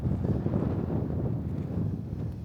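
Wind buffets the microphone in a constant low roar, gusting and rumbling without a break, in hilly country in Kyrgyzstan.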